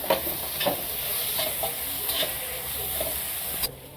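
Tomatoes with red chili powder sauté in a pan for a whole masoor gravy, a steady close sizzle broken by a few scraping stirs, ending abruptly.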